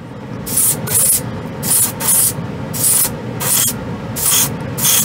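Harder & Steenbeck Colani airbrush spraying unthinned paint at 18 psi onto a white spoon, eight short hissing bursts in a steady on-off rhythm over a low background rumble, close and fairly loud.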